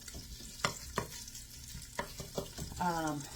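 Bacon frying in a pan gives off a faint, steady sizzle, broken by a few sharp pops and clicks, and ends with a brief scraping stir.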